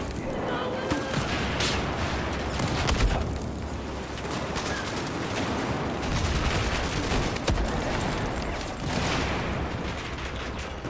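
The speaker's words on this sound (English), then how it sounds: "He's shooting us through cover." Battlefield video game gunfire, a dense, continuous barrage of rapid shots and bursts filling the whole stretch, with players talking over the clatter.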